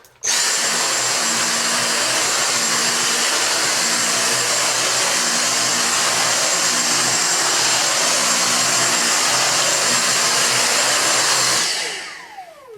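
A Dyson V6 Animal cordless vacuum cleaner, its brush roll housing just serviced, runs in normal mode on carpet. The loud, steady motor whine and airflow roar hold for about eleven seconds, with a faint rhythmic pulse underneath, then wind down at the end. No voices.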